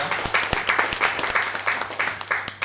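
Audience at a seminar session claps in a brief burst of applause, sharp individual claps standing out over a moderate crowd, loud and near.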